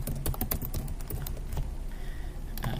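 Typing on a computer keyboard, a quick irregular run of close, crisp key clicks that thins out midway and resumes briefly, with no talk over it.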